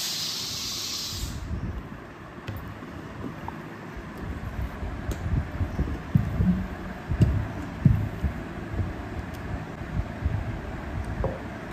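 Butter naan dough made with sour curd is rolled out: a rolling pin gives soft, low, rhythmic thuds and rumbling strokes close by, over a faint steady hiss.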